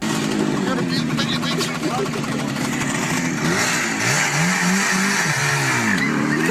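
A motorcycle engine revs loudly and steadily throughout while the bike is spun around in circles, its pitch rising and falling near the end, with voices mixed in under the engine noise.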